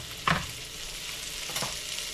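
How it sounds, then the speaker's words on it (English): Butter melting in a pan for a roux, a faint steady sizzle with two brief scraping stirs. "So let's melt the butter."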